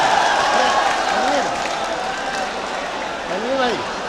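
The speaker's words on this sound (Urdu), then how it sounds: "دوستو تنویر غازی کو ایک بار زوردار تالیوں کے ساتھ آواز دیجیے" Applause from an audience at a poetry recital fills the clip as a steady, dense wash of clapping, while a voice talks over it throughout.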